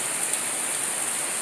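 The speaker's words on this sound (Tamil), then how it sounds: "நல்ல மழை சென்னையில் காலையில் 8 மணி வரைக்கும் மழை இல்லை, திடீர்னு செம மழை" Heavy, sudden rain pouring down in Chennai, a dense, even roar of drops on surfaces filling the short stretch with no gaps and no voices.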